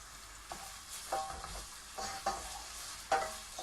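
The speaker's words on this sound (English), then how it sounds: "into the pan with the bacon, and we're just going to cook this bacon down" Bacon frying over high heat in a pan, a soft, fairly quiet sizzle broken by several sharp stirring scrapes and taps at irregular intervals.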